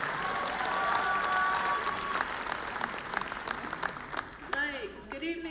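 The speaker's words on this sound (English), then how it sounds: "So let's give a round of applause to contestant number 3," Pageant crowd in Albuquerque claps for a contestant at the Miss Indian World event, a loud sustained wash of applause with some cheering, then a voice begins talking as the clapping dies down.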